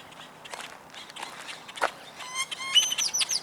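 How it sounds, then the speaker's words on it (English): Birds chirping and singing in a park, quick bright trills and tweets that grow busier toward the end, mixed with soft footsteps nearby. "Birds singing and chirping all around you."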